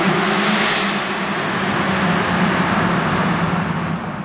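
A Ferrari F40 carries a steady, loud engine drone with road noise throughout, cruising without sharp revs, held close for the whole stretch.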